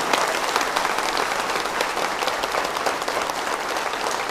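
An audience claps energetically in a large hall, a dense, steady wash of applause that holds evenly throughout without letting up.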